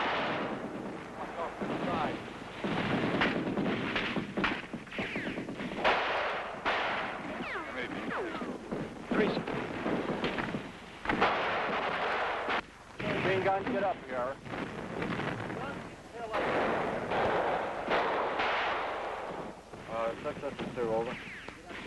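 Gunfire and explosions during a Vietnam War ambush as Marines return fire with M79 grenade launchers, repeated booming blasts and crackling shots in bursts, loud and rumbling, with wind noise and voices in between.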